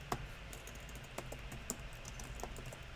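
Typing on a computer keyboard while practising Arabic and Spanish lessons, a steady patter of light key clicks with a few sharper taps, close and alone without talk.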